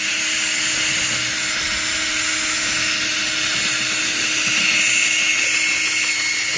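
Power drill fitted with a paddle mixer stirring pigment into the A side of a Polytuff coating, a steady continuous whirring drone with a constant pitch and no pauses.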